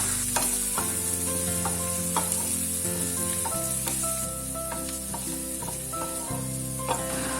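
Prawns sizzle and fry in butter in a pan, a loud continuous crackle close up with frequent scraping and stirring clinks from a utensil throughout.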